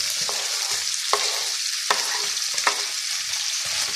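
Onion and garlic frying in oil in a pan: a constant close hiss of sizzling, broken by a few sharp spoon clacks as the pan is stirred, with no voices.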